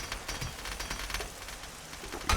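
Stone rubble pattering down in a 7 Days to Die game, a faint, dense scatter of small clattering impacts like rain on a hard surface, steady throughout with a slightly louder burst at the end.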